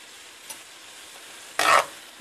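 Faint sizzling of green beans frying in a pan, with a light scrape near the start and a brief, louder stirring scrape and sizzle toward the end.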